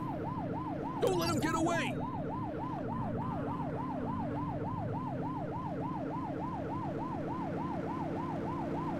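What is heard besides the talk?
police car siren in video game The Precinct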